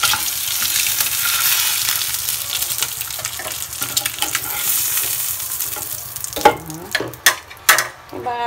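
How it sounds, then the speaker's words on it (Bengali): Eggs frying in hot oil in a pan, a loud continuous sizzle close by that gives way to a few sharp stirring clatters near the end. "এখন আমি ডিমটাকে সুন্দর করে ভেজে নিই"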